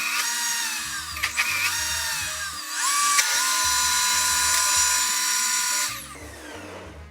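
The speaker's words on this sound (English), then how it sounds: "So now I'm gonna blend this for another like 30 seconds." A kitchen blender whirring through a creamy vegan mac-and-cheese sauce, running in close, loud bursts with a brief dip and restart, then cutting off near the end.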